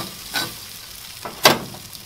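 Grouper fillets cooking in butter on a Himalayan salt block, a low, continuous sizzle broken by a few scraping stirs, the last one louder and closer.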